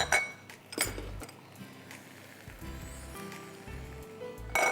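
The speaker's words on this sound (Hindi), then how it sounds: "और मैं एक ढक्कन ढाँक दूँ" A lid clinks down onto a cooking pot while lentils and greens cook, with several short metallic and glassy clinks close by and low rumbling between them.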